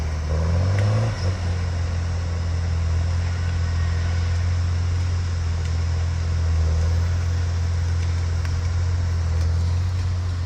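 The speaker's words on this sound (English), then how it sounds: "The saw just runs. It runs all the time when you cut it on." A hydraulic log saw at a cottonwood logging site runs without pause, a loud steady mechanical drone with a low engine-like hum throughout, close and continuous with no speech.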